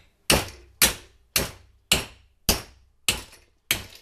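Seven evenly spaced, sharp strikes land on a PVC sheet clamped in a vise, each a loud, close crack that fades quickly before the next, in a steady rhythm with silence between.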